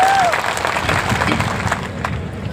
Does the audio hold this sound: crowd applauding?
yes